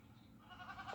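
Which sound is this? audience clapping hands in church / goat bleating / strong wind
goat bleating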